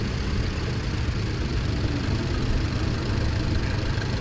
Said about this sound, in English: This is a tractor I remember.